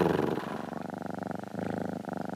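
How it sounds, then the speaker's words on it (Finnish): A lion purring softly as a story sound effect, with a steady, rhythmic low rumbling purr that pulses evenly, close and quiet, with no talk over it. "Silloin sen takaa alkoi kuulua hiljainen rauhoittava kehräys."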